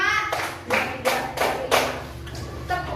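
Several sharp hand claps, about five in a steady, evenly spaced rhythm, counted out by a teacher in a primary school classroom, close and clear with no talking over them.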